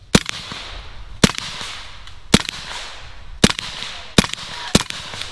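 A BinTac S45 Mini air rifle fires Texoma Precision 172 pellets at a 25-yard target: five sharp, loud cracks spaced roughly a second apart, each with a short ringing tail.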